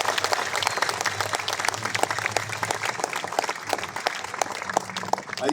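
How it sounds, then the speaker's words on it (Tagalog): Sustained applause from an audience at a flag ceremony, dense and steady clapping throughout with a crowd murmur underneath. "Pwede ba palakpakan natin ang pinakamalakas yung palakpak?"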